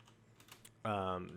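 Typing on a computer keyboard during a typing-club drill for the Y and period keys; faint key taps at first, then a louder steady tone takes over in the second half.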